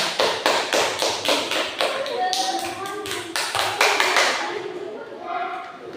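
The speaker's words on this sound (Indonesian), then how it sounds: "Silakan tepuk tangan buat kelompok 3 ya" A classroom of students claps for group 3, brisk overlapping hand claps with strong rhythmic beats early on that thin out and fade toward the end, with voices speaking in the background.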